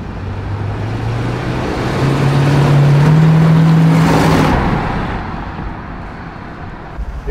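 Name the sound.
Plymouth Superbird car being driven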